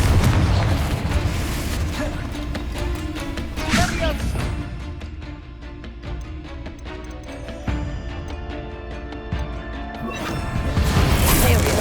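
Repeated Confringo blasting-curse explosions in Hogwarts Legacy inside the Feldcroft Catacomb dungeon: a loud, busy run of booms and crashes with clattering debris, swelling near the start and again at the end, with voices heard under the blasts.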